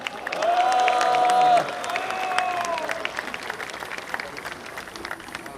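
Crowd at an outdoor patriotic Korean War anniversary event applauds for a minister, with clapping and cheering rising and then fading, while a sustained tone sounds through the first part.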